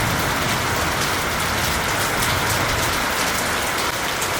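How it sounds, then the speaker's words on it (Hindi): Heavy rain pours steadily over a jungle campsite at night, a dense, continuous hiss of drops with no pauses, close and loud, with no voices. "ये देखिए भाई कितनी बढ़िया बारिश हो रही है।"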